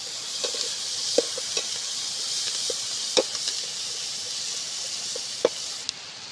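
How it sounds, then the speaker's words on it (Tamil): Curry leaves hiss and sizzle in hot oil while a chicken gravy is cooked, a steady bright frying crackle with a few sharp pops and clinks of stirring throughout. "இப்போ கறிவேப்பிலையை சேர்த்துக்கலாம்."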